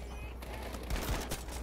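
Gunfire from the Battlefield V video game comes as a brief muffled burst of shots under a steady background din, with some low thumps in the middle of the short moment.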